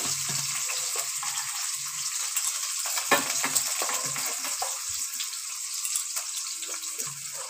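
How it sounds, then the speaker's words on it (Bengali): Chopped onion, tomato and green chilli dropped into hot oil together, a close crackling fry with bursts of sizzle and spatter, moderately loud and continuous, with faint clinks of stirring. "পেঁয়াজ কুচি, টমেটো কুচি, লঙ্কা সব একসঙ্গে আমি দিয়ে দিচ্ছি তেলের ওপরে"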